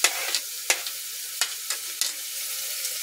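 Spices frying in oil for a jackfruit curry, a close sizzle broken by several sharp stirring scrapes at irregular intervals, no voices.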